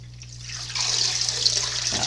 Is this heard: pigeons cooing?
no